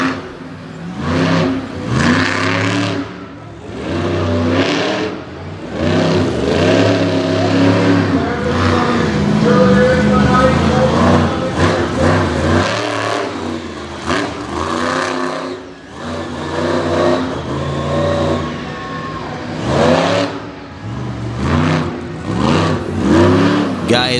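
Demolition derby cars rev at a Bloomsburg, Pennsylvania event, their mid-range engines roaring and surging continuously while an announcer talks over the noise.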